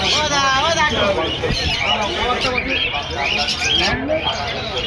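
Pigeons coo and chirp amid the busy hubbub of the Krishnagar pigeon market, their calls close and continuous beneath a dense babble of voices.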